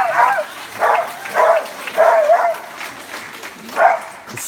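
An excited dog at an agility show barks in a series of five sharp, close yips spaced about a second apart, loud over a background of crowd murmur.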